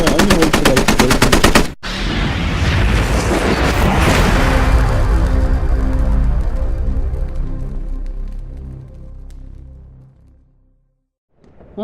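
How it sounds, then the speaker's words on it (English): IED explosion in a video game, with rapid gunfire crackling at the start, then a sharp blast followed by a long, rolling roar that fades slowly into near silence. "I'm gonna wait for that explosion"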